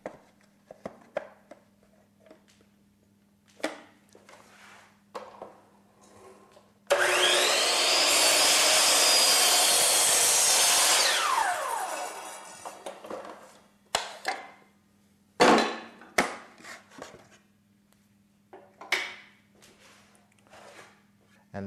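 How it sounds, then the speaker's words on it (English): Miter saw cutting an acute angle in wood casing clamped to an accessory fence: one loud, sustained whining cut of several seconds, framed by scattered handling clunks, clamp taps and a low steady hum. "that's all there is to cutting an acute angle in casing"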